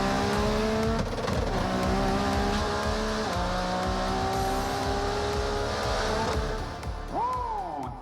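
Nissan GT-R making a half-mile standing-start racing pass at Ocala, reaching about 209 mph: a loud, close engine roar climbing through several gear shifts, then easing off at the end.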